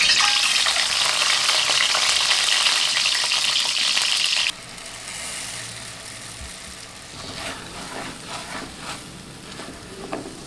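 Bhuna khichuri and egg bhuna fry in a pan, a loud bright sizzle for the first few seconds, then a quieter bubbling with utensil clinks and stirring scrapes.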